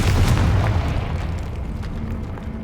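A Confringo fire spell explodes in Hogwarts Legacy as a loud, deep boom that opens at full strength and rumbles down slowly over a couple of seconds, heard alone with no talking.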